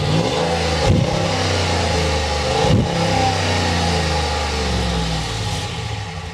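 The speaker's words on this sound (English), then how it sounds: "There's the Hemi in there. We need to hear it. Yeah. We need to fire it up." A Hemi V8 truck engine with a stock exhaust rumbles loudly at close range, revving up sharply twice with deep throaty blips between steady idling.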